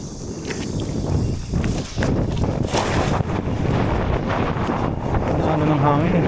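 Wind buffets the microphone continuously during fishing, a broad rumbling roar with gusty swells, and a voice speaks intermittently over it.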